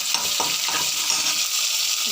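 Dried chillies, urad dal and rock salt fry in hot oil with a steady close sizzle, broken by soft scraping stirs throughout.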